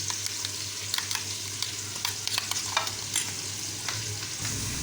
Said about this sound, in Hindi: कौरमा मसाला लिया था उसको मैं दही में मिक्स कर लेती हूँ।